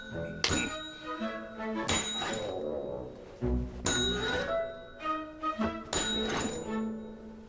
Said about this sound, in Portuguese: Você não precisa tocar o sino.